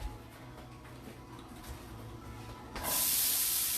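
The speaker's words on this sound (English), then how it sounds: "Nice little sizzle." Onions drop into very hot oil in a home kitchen and burst into a loud, steady sizzle after a quieter stretch of low background hiss.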